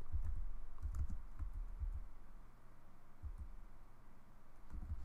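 Computer keyboard typed on to enter a network command, soft close keystrokes in short bursts over a low hum, no talking.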